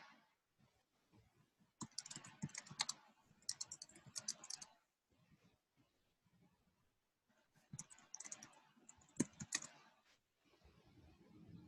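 Fingers type on a computer keyboard in two clusters of quiet, rapid key clicks separated by a sparse gap, close but soft, with no speech.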